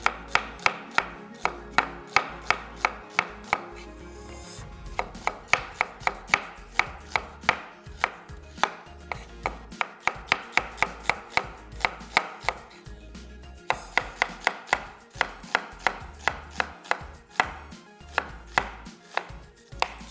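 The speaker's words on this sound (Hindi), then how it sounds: "प्याज को करते हैं स्लाइस।" Onions are sliced with a knife on a board in a steady stream of quick, crisp chops, close and clear with brief pauses, no talking.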